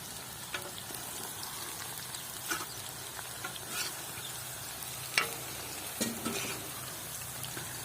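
Potatoes fry in a pan made from a harrow disc, a steady close sizzle with occasional stirring scrapes and clinks rising above the constant crackle.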